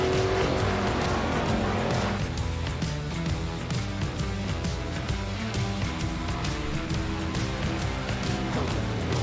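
A race car pulls off pit road at Talladega Superspeedway during single car qualifying, its loud engine revving through repeated gear pulses over a dense, continuous roar.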